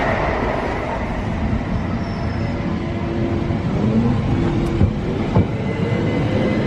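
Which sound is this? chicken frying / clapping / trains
trains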